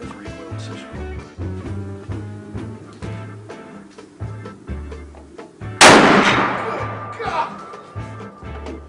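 A single massive, sharp gunshot from the world's biggest centerfire rifle, a heavy prototype, cracking loudly midway and ringing out, preceded by clanking handling sounds and some background talk.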